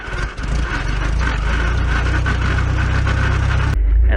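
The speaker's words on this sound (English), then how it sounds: "the engine should fire, and then we're going to release the starter" A Robinson R22 helicopter engine fires up close by and settles into a loud, steady mechanical rumble before cutting sharply to a lower hum.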